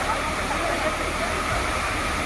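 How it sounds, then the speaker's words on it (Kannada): Sirimane waterfall in Chikkamagaluru, swollen by rain and cascading over rocks, gives a continuous, dense roar of rushing water with no breaks. "ಸಿರಿಮನೆ ಜಲಪಾತಕ್ಕೂ ಜೀವಕಳೆ ಬಂದಿದ್ದು ಕಲ್ಲು ಬಂಡೆಗಳ ಮೇಲೆ ಜಲಪಾತ"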